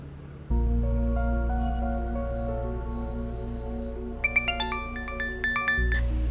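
A phone ringtone plays an early-morning call, a steady electronic tone pattern that begins abruptly, holds for several seconds, then switches to a brighter, higher melodic chime phrase near the end.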